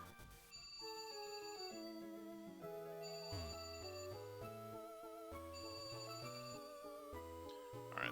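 A phone ringtone plays a steady repeating melodic tune, clear and continuous for several seconds with no voices over it.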